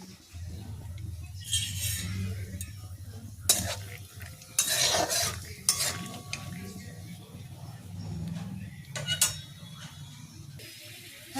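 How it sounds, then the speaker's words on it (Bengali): Peanuts frying in hot oil in a kadai, with a soft continuous sizzle under occasional stirring scrapes and light metallic clinks of a spoon against the pan. "তেলটা গরম হয়ে গেলে আমি এবারে বাদামগুলো ভেজে নেব।"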